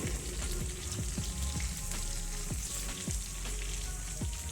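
Stuffed tinda (round gourd) curry sizzles and fries in a pan over low flame, with a steady crackle broken by small popping bursts, quiet and close with no talk.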